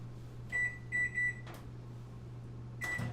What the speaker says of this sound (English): So I'm going to put it in the microwave.